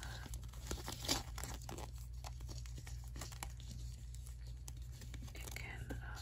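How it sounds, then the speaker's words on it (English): Soft, close paper crinkling and light rustles as a paper snowflake is folded into a hexagonal shape in a quiet ASMR setting, with faint whispering in the background. "And then I have to fold it a little bit"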